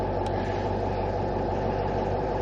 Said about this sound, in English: I've got the engine running, started